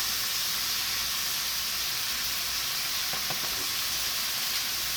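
Taco seasoning frying in hot oil in a pan gives a steady, even sizzle and hiss throughout, with a few faint stirring clicks near the end and no voices.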